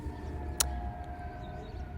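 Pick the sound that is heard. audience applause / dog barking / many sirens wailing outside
many sirens wailing outside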